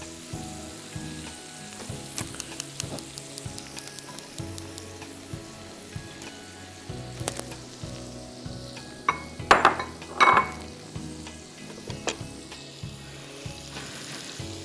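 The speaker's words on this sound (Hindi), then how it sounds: "इसको हमें शैलो फ्राई करना है जब तक कि लाइट गोल्डन हो जाए" Sliced onions shallow frying in pomace olive oil and butter, a steady soft sizzle running throughout with occasional clinks of a utensil against the pan and a brief burst of stirring near the middle.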